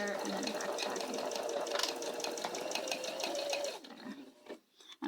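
A sewing machine runs in steady, rapid stitching bursts through fabric along the bottom edge, then slows and stops as the stitch is reversed to backtrack, with a few quiet handling sounds at the end.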